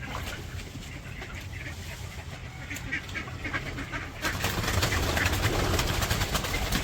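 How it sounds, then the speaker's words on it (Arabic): A flock of wild mallard ducks quacks in short overlapping calls, several birds close together, over a rushing background that swells louder partway through. "شوف شلون هذا كله الخضيري البري كان نايم فوق"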